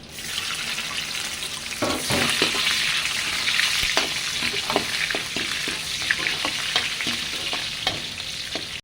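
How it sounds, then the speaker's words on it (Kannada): Chopped onion frying in hot oil with mustard seeds and garlic as a tempering for fish curry, a dense continuous sizzle close by, punctuated by irregular clicks and scrapes of stirring throughout, without speech. "ಒಗ್ಗರಣೆಗೆ ಒಂದು ಸ್ವಲ್ಪ ಈರುಳ್ಳಿ, ಒಂದು ಕಾಲು ಭಾಗದಷ್ಟು ಈರುಳ್ಳಿ"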